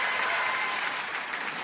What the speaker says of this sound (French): Tout ce que tu mérites, c'est des applaudissements.